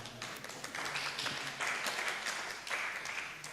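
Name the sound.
audience applause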